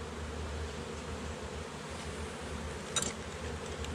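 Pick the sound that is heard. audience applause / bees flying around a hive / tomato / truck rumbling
bees flying around a hive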